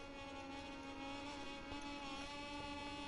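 Moto2 motorcycles race in MotoGP 21 at Portimão, giving a steady, high-revving engine whine with sustained harmonic tones. The faint, continuous drone holds its pitch with slight shifts and no speech.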